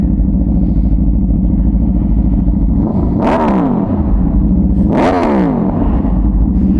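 An RSV4 1100 motorcycle engine drones loudly and steadily while riding on the road, with two whooshing swells as something passes close by.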